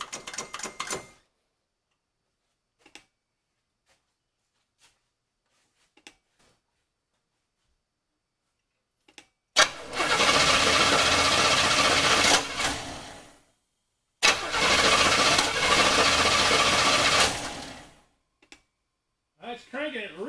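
A car engine cranks fast with power from a JFEGWO 8250 jump starter, two loud sustained bursts of whirring turnover separated by a short pause, with faint clicks before.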